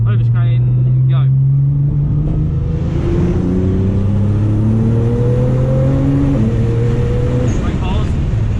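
Onboard a Nissan GTR on a circuit, a loud engine revs up through rising gears and its pitch climbs steadily, with an instructor's voice coming through over the roar at the start.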